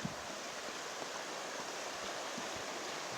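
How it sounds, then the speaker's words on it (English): Steady rushing of a flowing creek, a constant broadband wash of water with no voices. "It's a good size creek right there."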